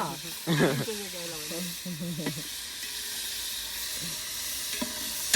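Tomatoes added to a pan with ginger-garlic paste for chicken, frying with a continuous bright sizzle and hiss, while a person talks briefly over it at the start.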